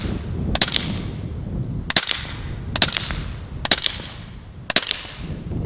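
A .30 caliber Western Sidewinder air rifle fires pellets five times at roughly one-second intervals, each a sharp, loud crack rising over steady low background noise outdoors, with no talking.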